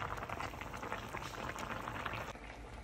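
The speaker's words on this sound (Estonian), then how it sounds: "Vegan pada juurviljadega." A vegan vegetable stew bubbles in a pot, a close and steady simmer of popping and gurgling that fills the whole stretch without any voices.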